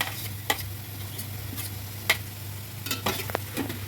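Onion, ginger, green chili and curry leaves frying in a pan for a soya chunk cutlet, a quiet steady sizzle under a low hum, broken by a few sharp clicks of stirring.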